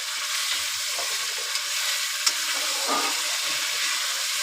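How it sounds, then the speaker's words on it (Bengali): Magur catfish curry with green chilies cooking in a pan, a continuous bright close sizzle with soft occasional stirring scrapes and a faint clink, no voices. "কাঁচা লঙ্কায় রান্না হচ্ছে।"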